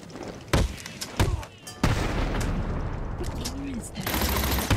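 Gunfire from armed thugs in Batman: Arkham City cracks out in sharp separate shots and short bursts amid thuds of combat, loud and close, with brief pauses between volleys.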